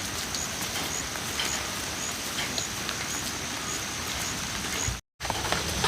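Heavy rain pours down steadily as a dense, even hiss close by, with a brief cut to silence near the end before the downpour resumes.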